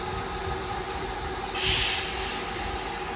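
Class 323 electric train, unit 323208, pulling out of Cheadle Hulme station toward Manchester Piccadilly: a steady close rumble of rolling stock with a brief bright wheel squeal partway through.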